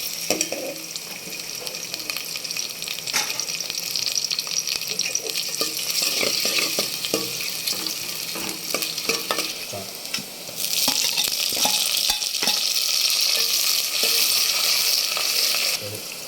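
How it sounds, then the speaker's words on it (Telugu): Chopped onion frying in hot oil for a mutton gongura curry, a continuous bright sizzle with stirring clatter that grows louder and fuller partway through. "ఆయిల్ వేడెక్కిన తర్వాత ఆనియన్ వేసుకుందాం."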